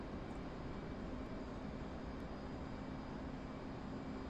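An F/A-18C jet engine in the DCS flight simulator runs at dry throttle, without afterburner, as a steady, even roar that stays constant and fairly quiet throughout with no talk over it.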